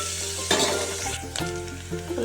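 Sliced onion frying in a pan for menthikura pappu, a steady close sizzle with spoon stirring and a few metallic clinks against the pan.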